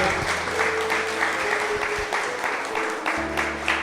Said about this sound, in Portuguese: Dê mais uma forte salva de palmas ao Senhor.